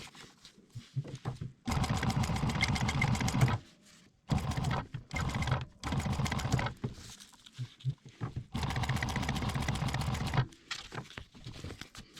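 A sewing machine stitching Velcro onto a retention strap, its needle running in rapid mechanical bursts of a few seconds each with short pauses between, close and clear.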